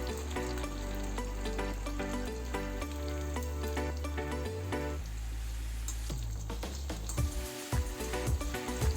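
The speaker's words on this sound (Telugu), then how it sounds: "ఇందాక కట్ చేసుకున్న కొత్తిమీర పుదీనా కరివేపాకు పచ్చిమిర్చి ఇప్పుడు ఆనియన్స్ వేసుకొని కొంచెం మంచిగా ఫ్రై చేసుకోవాలి" Onions, coriander, mint, curry leaves and green chillies fry in a pan for mutton brain fry, a continuous soft sizzle running beneath background music with no talking.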